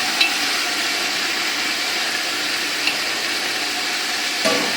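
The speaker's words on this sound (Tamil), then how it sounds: "நல்லா வதங்குற அளவுக்கு நம்ம கிண்டிக்கிட்டே பார்க்கலாம்." Beans, carrots and potatoes being stirred and sautéed in a pot for a large vegetable biryani, a steady soft sizzle and hiss throughout with a few faint scrapes of the spoon, no talking.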